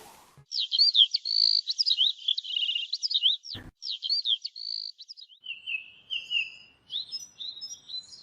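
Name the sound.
myna birds chirping in a cartoon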